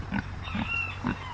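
Pigs oink close by, three short grunts spaced evenly over a moment, with a faint squeal in between.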